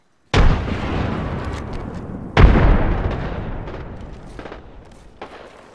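Two heavy booms from frag grenades detonating in Apex Legends, each a sharp loud blast followed by a rumbling decay, the second about two seconds after the first.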